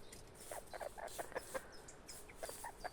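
A rooster on a farm gives soft, short clucks in quick irregular bursts, fairly close but quiet, with no talk.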